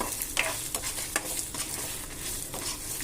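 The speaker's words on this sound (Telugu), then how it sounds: "శనగపప్పు, ధనియాలు కూడా వేసుకుందాం. మళ్ళీ ఇవి కొంచెం ఫ్రై చేసుకుందాం." Red chillies, chana dal and coriander seeds fry in a pan with a faint steady sizzle, while a few light stirring scrapes come through close by.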